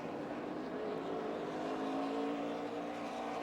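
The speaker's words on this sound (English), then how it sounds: "James Busher, Ricky Carmichael, and here comes the pack" Pack of NASCAR trucks at Talladega in a 2010 truck series race, a continuous loud engine drone as the field races past, with faint broadcast voices mixed underneath.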